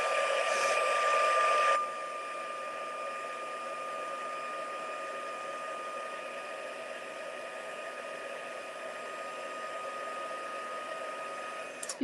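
A craft heat tool blows a steady, loud whooshing roar across a stamping project, running without a break from start to finish with no talk.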